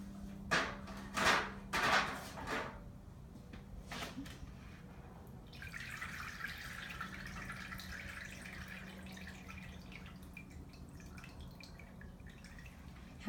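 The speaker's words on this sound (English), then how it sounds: "pour the water through the gravel to get rid of all the tiny, small pieces that went through the strainer" Water poured through gravel to filter it: first a few splashy trickles and drips, then a steady, quiet, close pouring hiss as the water runs through the stones.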